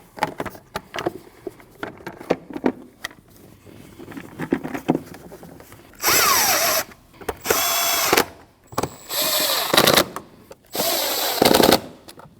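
A power tool tightens a clamp in the engine bay of a 2013-2019 Ford Escape 1.5L, firing in several loud, close rattling bursts of a few seconds each, separated by short quiet gaps.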